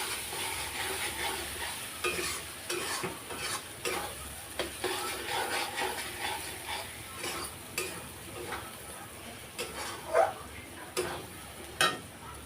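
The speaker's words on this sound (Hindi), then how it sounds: "अब इसको थोड़ा चलाएंगे।" Desi chicken curry frying in a pan, stirred steadily with a utensil: a continuous close sizzle under repeated scraping strokes, with a few sharper knocks toward the end.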